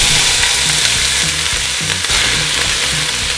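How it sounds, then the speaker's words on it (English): Chopped onions hit hot olive oil in a pan and fry with a loud, steady, close sizzle, crackling throughout with soft rhythmic stirring scrapes underneath; no voices. "Your onions should always make that noise when they hit the pot."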